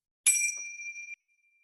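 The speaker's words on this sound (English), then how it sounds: "they will take and they will ring the bells" A single bright metallic ring struck once, its clear tone sustaining and fading over about a second before cutting to silence.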